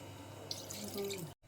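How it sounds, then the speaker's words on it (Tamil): Water poured into a pot of mutton for cooking, a soft steady trickle and splash close by, ending in a sudden cut of silence. "இப்போ மட்டன் வேக தேவையான அளவு தண்ணி ஊற்றிக்கலாம்."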